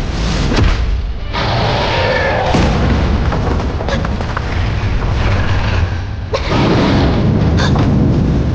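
Gunfire and booming explosions in a Chinese animated fantasy battle scene, loud repeated blasts and rumbling impacts layered throughout with short gaps between bursts.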